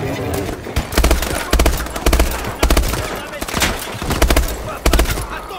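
Rapid bursts of automatic gunfire in the first-person shooter Call of Duty: Advanced Warfare, several loud close volleys cracking out in quick succession with short gaps between them.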